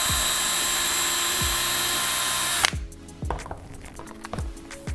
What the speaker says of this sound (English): drill your pilot hole